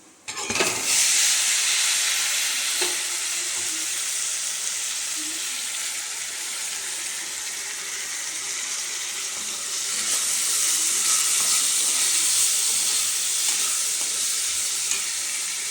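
Ginger and tomato pieces frying in a pan for chicken curry, a loud continuous sizzle and hiss that swells again later as the mixture is stirred, with no voices.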